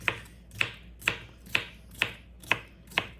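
A knife slices through small cucumbers on a cutting board, seven crisp, evenly spaced cuts about half a second apart, close and clear with no talking.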